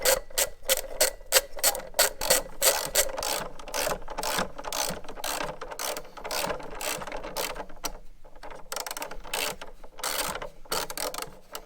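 A ratchet loosens a bolt on an Alfa Romeo Giulia or Stelvio throttle body in rapid, sharp clicking bursts with brief pauses, close and steady, no voices.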